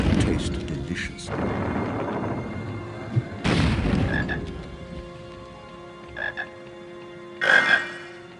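Croaking chocolate frog from the Harry Potter and the Chamber of Secrets video game, heard as a few short croaks amid booming game sound effects and background music, with quiet gaps between louder bursts.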